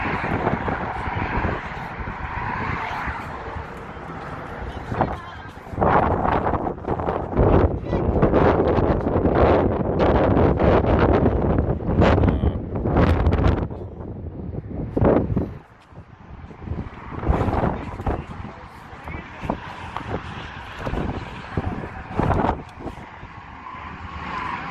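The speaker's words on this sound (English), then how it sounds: "Probably can just hear the wind." Strong wind buffets the microphone on the Mike O'Callaghan–Pat Tillman Memorial Bridge at Hoover Dam, loud roaring gusts rising and falling over the whole stretch, with a brief lull near the middle.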